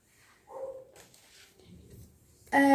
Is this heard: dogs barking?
yes